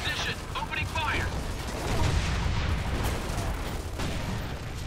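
Gunfire from a Gears of War 2 battle rolls on steadily in a dense, rumbling barrage under a shouted radio voice at the start, with the noise continuing through to the end.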